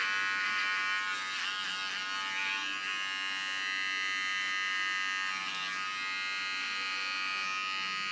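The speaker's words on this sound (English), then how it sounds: "I love this clipper because it gives ultra sharp tattoo lines" Small electric hair clippers drone steadily at close range during a haircut, a bright, even buzz with harmonic whine that shifts slightly as the blades move through hair, with no talking.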